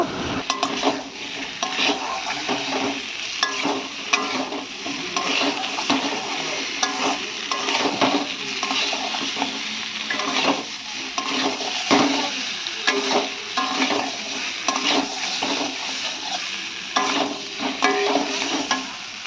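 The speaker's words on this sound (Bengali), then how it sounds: "আর তারপরেই দিয়ে দিলাম সিদ্ধ করা আলু আর এটা ভালোভাবে মশলার সাথে কষিয়ে নেব" Boiled potatoes stirred and fried with spices in a pan for a Bengali home lunch, a steady close sizzle with continuous scraping and stirring strokes throughout, no talking.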